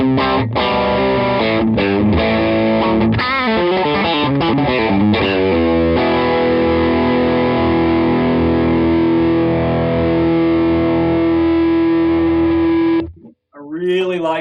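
Electric guitar driven through a Chellee Odie overdrive pedal, a run of choppy distorted strums and short phrases giving way to a long sustained overdriven chord, loud and up close, then breaking off abruptly near the end.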